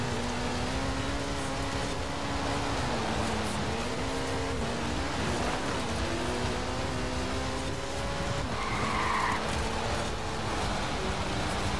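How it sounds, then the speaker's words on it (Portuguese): Rally car in Forza Horizon 4 sliding over snow, its engine droning steadily with wavering pitch as the tires lose grip, continuous and fairly loud with no voices. "Dirigindo na neve é horrível. Tu tenta dirigir, mas tu tá patinando."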